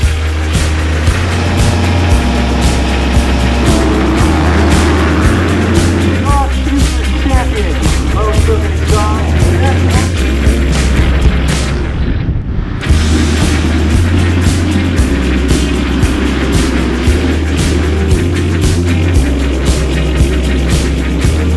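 A race-prepped motocross bike with a Brembo hydraulic clutch, Ride Engineering 22mm triple clamps and Kite hubs, ridden hard: a loud, close engine that revs up and drops repeatedly through gear changes, with a brief cut in the middle.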